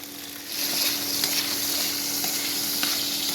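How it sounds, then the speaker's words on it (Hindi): Chicken pieces hit hot oil and sizzle loudly, a steady crackling hiss with small pops, rising after a brief quiet start and staying close and constant. "फिर ये तेल हमने अच्छे से गर्म कर लिया है, इसमें हम फ्राई कर लेंगे ये चिकन पीसेस को।"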